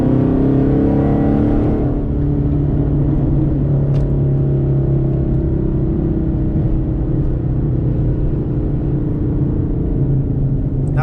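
A car's engine revs hard under acceleration, heard from inside the cabin, with a loud continuous rumble. The pitch climbs and then drops as the driver downshifts.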